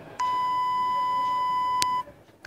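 A phone's receiver test plays a steady electronic beep tone, holding clear and level for about two seconds before cutting off, with a brief click partway through.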